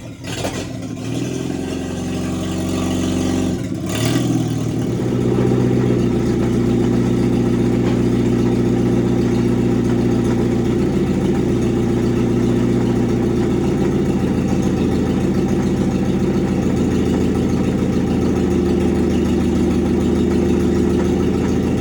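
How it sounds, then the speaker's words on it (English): A Farmall M tractor fitted with a swapped flathead engine starts with a few rough catches, then settles into a loud, steady, low idle that runs on evenly and close by. "we'll let the engine warm, and we'll try putting it in gear and see what happens"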